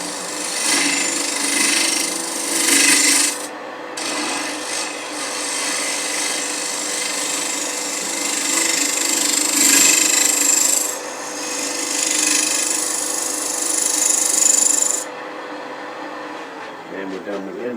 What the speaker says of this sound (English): a regular conventional scraper is best for this